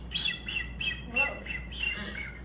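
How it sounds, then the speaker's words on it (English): Recorded calls of blue-footed boobies from the Galapagos come as a series of about seven shrill, whistling squawks in an uneven rhythm over a faint hum, with a little talk underneath. "The blue-footed boobies are probably my favorite, actually, and I'll play that one for you again."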